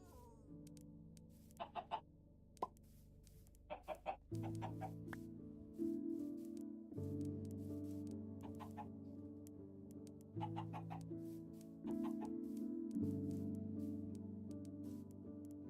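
Chickens clucking in Minecraft, several short pitched clucks popping up over a loud, steady synthetic musical drone that shifts chords throughout.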